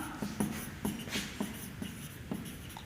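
Chalk or marker writing on a board during a chemistry lesson, a faint run of short, rhythmic scratchy strokes close by.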